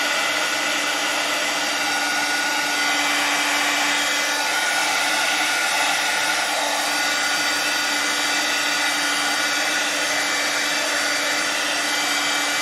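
A heat tool drying a card-making project blows in one continuous loud, close whooshing roar with a faint steady hum underneath, uninterrupted throughout.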